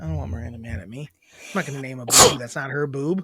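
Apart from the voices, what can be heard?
sneeze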